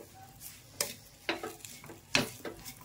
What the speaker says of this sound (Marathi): त्याच्यामध्ये ह्या तळलेल्या मिरच्या टाकून देऊ आपण। चांगल्या प्रकारे हलवून घेऊ।